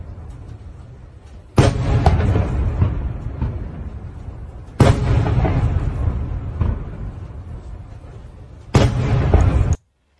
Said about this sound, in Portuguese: várias explosões no mesmo lugar